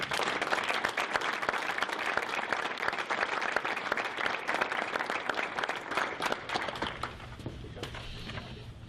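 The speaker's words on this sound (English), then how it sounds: "Give him an applause." Steady applause from the audience at a school board meeting, dense and sustained for several seconds before easing slightly near the end as a voice starts to speak over it.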